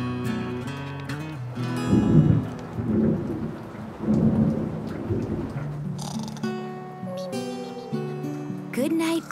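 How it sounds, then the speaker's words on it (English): Rolling thunder rumbles through steady pouring rain, with a voice talking over the storm and music notes briefly sounding near the end. "scary thunder and rain pouring down"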